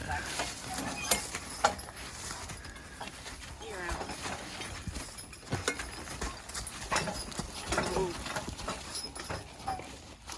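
A logging horse backing up over ground while skidding logs, with soft irregular hoof steps and shuffling close by, mixed with faint background sounds and no clear speech.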